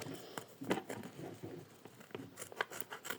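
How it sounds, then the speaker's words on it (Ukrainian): Close, quiet crinkling and snipping of a small plastic packet being opened, irregular rustles and clicks with no talking. "Я хочу відкрити спочатку оцей от пакетик."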